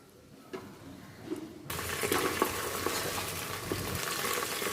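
Mint leaves drop into hot oil and ghee for chicken biryani. A faint stir and a couple of taps come first, then a steady bright sizzle rises and continues close by.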